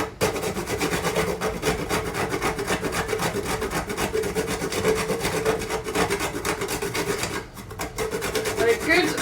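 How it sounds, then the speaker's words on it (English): Whole fresh nutmeg rubbed steadily against a grater over cheese for a cottage pie, a continuous close, dry rasping scrape with a fast back-and-forth rhythm and a brief pause near the end, no talking. "using maybe about half a nutmeg, fresh nutmeg, grating that into the cheese"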